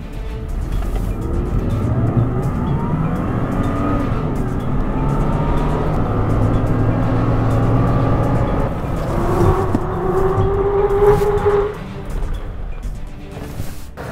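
A Toyota Tacoma on a brake performance test run, steady loud road and engine noise throughout with tire and brake sounds rising near the end as the truck slows.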